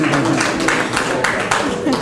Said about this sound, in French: Je l'applaudis très fort, et avec moi